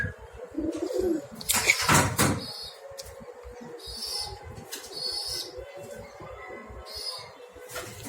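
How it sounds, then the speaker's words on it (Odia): Pigeons coo in a pigeon house while a chick calls with thin repeated cries, a burst of wing flapping early on, all close by with soft background rustling. "ସେ ଛୁଆଟାକୁ ବି ଖାଇବାକୁ ଦେଇଦେବା ଯେଉଁଟା ବୋବଉଛି"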